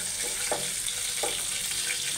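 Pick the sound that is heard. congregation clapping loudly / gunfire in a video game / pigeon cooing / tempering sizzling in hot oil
tempering sizzling in hot oil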